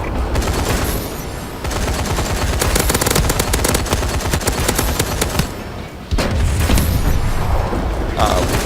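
Paladin scorestreak gunship in Call of Duty: Advanced Warfare raining down heavy fire, a dense, loud barrage of rapid gunfire and booming impacts that barely lets up, with a brief dip before resuming.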